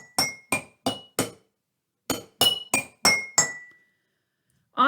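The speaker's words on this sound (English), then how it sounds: "I am going to have a go with a very long teaspoon, and let's have a listen to this." A very long teaspoon strikes a glass jar in bright, ringing clinks: four quick taps, a pause, then five more with short decaying tones, close and clear.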